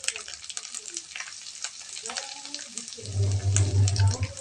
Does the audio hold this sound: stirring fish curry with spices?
yes